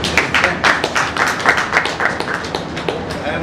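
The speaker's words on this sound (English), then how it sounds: "Claps, please." A meeting audience claps in brisk, uneven applause for a few seconds, close and fairly loud, with no one talking over it.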